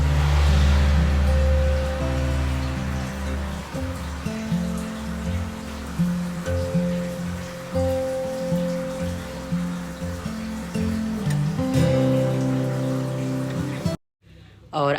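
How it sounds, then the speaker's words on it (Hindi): Rain falls outside a home, a steady hiss of drops on surfaces running beneath prominent tonal background music, continuous until a sudden cut near the end. "क्योंकि बारिश हो रही थी।"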